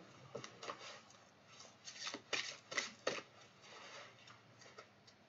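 Oracle cards being shuffled and drawn by hand, a run of soft papery riffles and brisk slaps that cluster and fade, fairly close and quiet with no talking.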